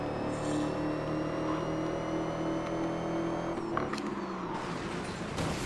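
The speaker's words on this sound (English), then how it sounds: "You can kind of hear a turbo, which is pretty decent." Car engine with a turbo in the racing video game Gear.Club Unlimited 2 on PS5, a steady sustained drone with whine under faint shifting, then a rougher burst of noise partway through.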